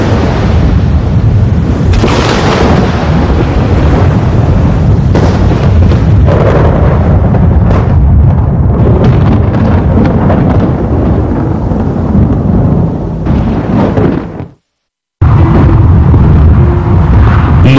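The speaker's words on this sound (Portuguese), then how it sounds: "Um raio foi criado." Thunder after a lightning strike, a loud, continuous rumbling roar with rolling bursts, broken by a brief silent gap before resuming at full strength.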